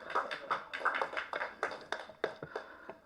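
Scattered audience clapping greets actor and producer KJ Balamani Marvan at a film press event, a loose patter of hands that swells in uneven bursts and fades without any voices.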